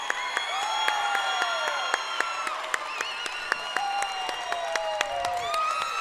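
Steady clapping from an MMA event crowd after a fight, with sharp claps standing out and a few faint whistles and cheers mixed in.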